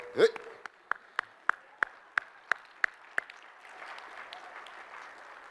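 Scattered applause at a Massachusetts Municipal Association annual meeting as Senator Elizabeth Warren is introduced. A short vocal burst opens, then about ten crisp, evenly spaced claps ring out before fading into a soft room murmur.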